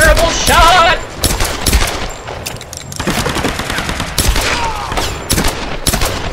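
Rapid bursts of automatic gunfire and single shots crackle in a Tomb Raider (2013) firefight, loud and dense, with brief pauses between volleys and no clear talking.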